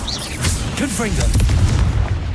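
Hogwarts Legacy's Confringo blasting spell detonates as a dense, booming explosion that fills the short moment, loud and close, with a voice briefly heard over it.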